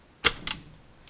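Two quick mechanical clicks about a quarter second apart as a KTM 300 dirt bike gearbox is shifted by hand on a rebuild bench, close and crisp, followed by quiet.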